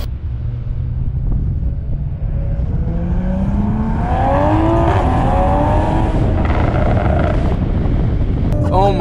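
A 2020 Toyota Supra with a catless downpipe exhaust accelerates hard from inside the car. The engine drone rises loudly through the gears under wind and road noise, with no talking.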